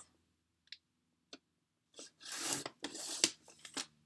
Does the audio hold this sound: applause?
no